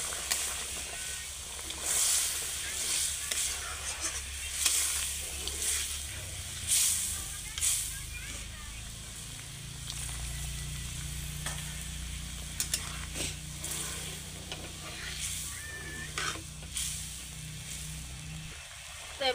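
Hot water poured into a cooking pot with oil and potatoes for a dried-fish curry comes straight to a boil: continuous hissing and sizzling with bubbling, occasional clinks, and a voice talking over it at times.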